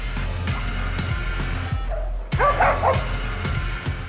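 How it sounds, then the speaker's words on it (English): Trained attack dogs bark repeatedly in the no man's land of La Mesa prison in Mexico, a loud, urgent run of yips and barks over a steady low rumble of background noise. "Highly trained attack dogs in no man's land"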